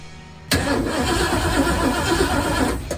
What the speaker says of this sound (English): I'm gonna turn the switch on and see what we get